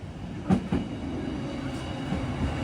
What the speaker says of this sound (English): And here comes the train.